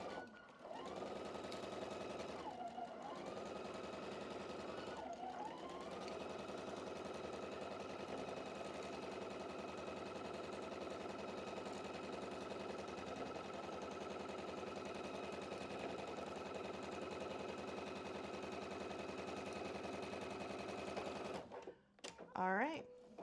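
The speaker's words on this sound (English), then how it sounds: "we're going to go ahead and sew this sashing onto the first one" A sewing machine stitches sashing onto a quilt block in a long steady run, its fast even whir continuing for about twenty seconds before stopping, with a brief rustle of fabric at the end.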